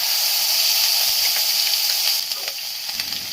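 Onion paste sizzles in hot oil with cumin seeds for a koi fish curry in yogurt, a loud, close, steady frying hiss with light crackle that eases slightly toward the end, no voices.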